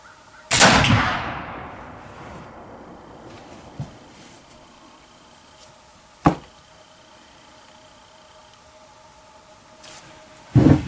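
A Kibler Woodsrunner muzzleloading rifle fires a 100-grain charge outdoors, one sharp, loud crack with a long ringing decay, followed by fainter knocks and another sharp report near the end.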